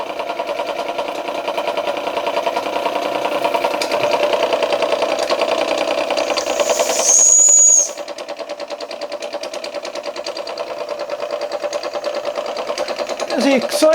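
A small antique American Weeden model 43 steam engine runs steadily nearby with a fast, even mechanical chuff, with a brief hiss and a faint whistle midway as the level drops slightly.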